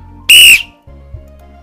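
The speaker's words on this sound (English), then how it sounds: "my genuine Acme Thunderer whistle turns out not to be the quiet signal" An Acme Thunderer whistle gives one loud, shrill blast lasting about a third of a second, then stops, leaving only faint low background hum.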